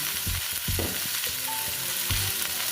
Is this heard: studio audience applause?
no